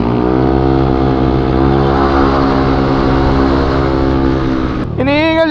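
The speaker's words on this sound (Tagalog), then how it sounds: "Iniingal yung motor namin sa kanila." Motorcycle engines on a year-end group night ride drone loudly and steadily up close, then cut off abruptly near the end as a voice breaks in.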